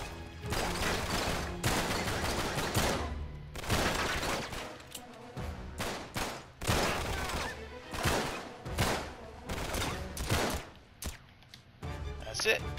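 Rapid bursts of gunfire from Uncharted 3 in the London Underground level, loud and close, with repeated volleys of shots cutting through the full length amid game action.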